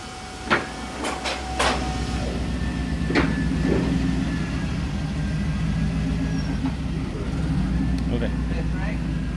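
Stock carbureted 5.3 LS V8 in an LS-swapped Dodge on 35-inch tires, idling with a steady low drone, with a few sharp clanks and knocks near the start.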